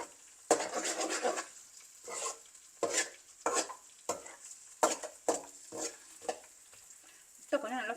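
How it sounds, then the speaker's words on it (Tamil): Egg fries in a pan for fried rice, sizzling in repeated bursts as a utensil stirs and scrapes, with pauses between strokes. "முட்டை கொஞ்சம் நல்லா ஃப்ரை ஆகட்டும்."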